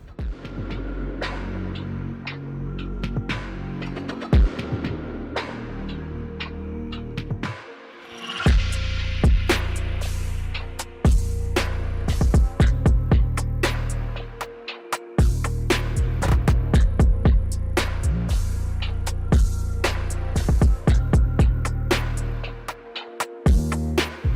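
Hair clippers fitted with a 1.5 guard, lever closed, cut hair in a self-fade, giving a close, continuous buzzing hum that stops briefly a few times and carries repeated small clicks and scrapes as they move through the hair.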